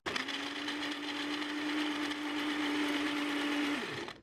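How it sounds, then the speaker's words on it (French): Loud, steady whir of a blender mixing coconut water with frozen red fruits, running continuously for about four seconds before cutting off, with no talk over it. "je pense que je vais tester de mixer ça avec les fruits rouges"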